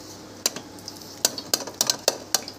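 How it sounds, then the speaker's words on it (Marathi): A whisk crushes cooked lentils for sambar in a metal pot, making irregular sharp metallic clinks and taps against the sides, close and fairly crisp over a quiet background. "मग हे विस्करच्या साहाय्याने तुम्ही क्रश करून घ्या"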